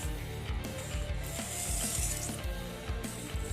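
A kitchen knife drawn repeatedly along a sharpener, close raspy scraping strokes repeating in a quick, fairly regular rhythm over a steady background hiss.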